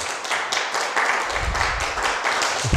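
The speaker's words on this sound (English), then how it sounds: "Thunderous applause." An audience at an evening talk on abolishing war breaks into applause, a dense, sustained burst of many hands clapping in a hall.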